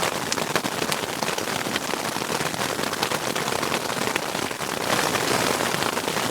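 Rain and hail drum hard on a tent during a mountain thunderstorm, a dense, loud, continuous patter close overhead with no voices.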